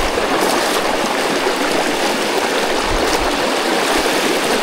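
Deep water of the Dumaka River stream flowing close by, a loud, even rushing roar of water that never lets up, with no speech over it.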